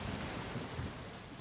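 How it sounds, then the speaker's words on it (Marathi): Steady rain falling, a dense even hiss of drops that continues without a break, fairly soft and with no voices over it. "पाऊस पडतोय."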